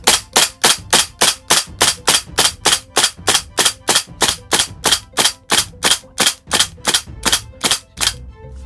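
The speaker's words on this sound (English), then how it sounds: "So you could actually fire quite a few rounds." E&L QBZ-191 gas blowback airsoft replica rifle firing a steady string of about two dozen semi-automatic shots, each a sharp loud crack with mechanical clack, evenly paced and close, with no talking.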